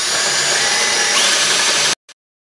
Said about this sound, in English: now I should be able to drill these 3/8 holes here for the carriage bolts